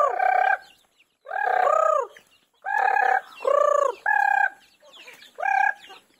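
A chicken calls loudly and close in a farmyard, giving about six separate harsh, clucking squawks with short gaps between them and no talking.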